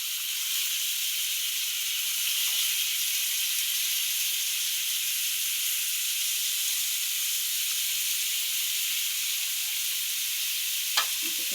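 Fish fries on a tava with a steady, loud, broad sizzle that holds evenly throughout, ending with a faint scrape, and no voices.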